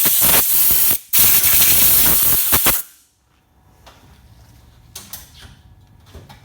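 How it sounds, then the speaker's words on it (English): Compressed air blasts loudly over rear brake pads and handbrake shoe parts in a workshop in two strong hissing bursts, then cuts off, leaving faint clicks and handling noises. "Compressed air, sorry about the noise."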